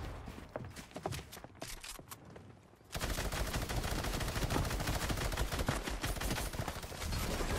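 Pump shotgun fire in Fortnite: a few scattered shots and clicks at first, then a dense, loud continuous barrage of gunfire and explosions filling the rest, with no talk.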